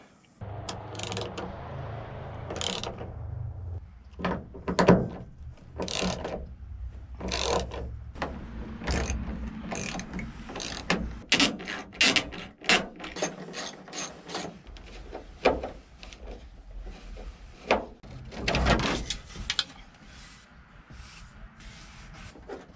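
Bolts come out of the headliner grab bar of a 1988 Chevrolet Squarebody Suburban with close, sharp ratcheting clicks in quick bursts and pauses, over a quiet background.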